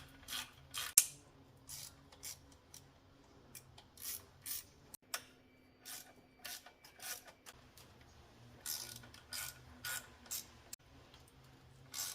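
A hand ratchet clicks in short repeated bursts while nuts and T30 Torx fasteners come off a 2010 Audi Q5 3.2L V6 FSI engine, with close, crisp pawl ticking and brief metallic clinks separated by quiet pauses.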